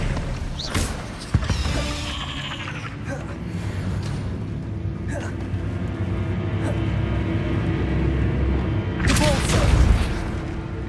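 A Bombarda blasting spell in the video game Hogwarts Legacy, with a sharp booming hit followed by a rumbling din of game effects and later bursts of impact, loud throughout and with no clear talk.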